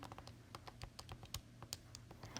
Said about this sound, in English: Type that into my calculator.